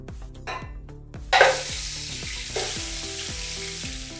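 Beef chunks, including fatty brisket and bone-in pieces, drop into a hot pan of fried spices, and after a thump a loud sizzle bursts out and keeps crackling steadily close by, with no talking.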